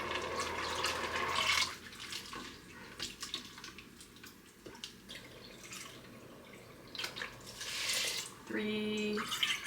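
Water poured from a cup into an Instant Pot for lentil chili makes a short splashing pour, then quieter drips and clinks, a second pour near the end, and a voice speaking in between.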